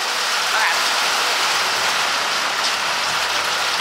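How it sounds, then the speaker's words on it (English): Steady rain pours down, a dense, even hiss of drops hitting a surface that holds without a break from start to finish. "Did y'all hear the rain?"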